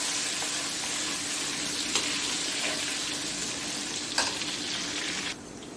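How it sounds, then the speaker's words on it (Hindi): Beef karahi ingredients frying in a pan, a steady broad sizzle running throughout with a couple of brief stirring clinks, close and even, dropping slightly in level near the end. "इसको थोड़ा सा मैंने भूनना है।"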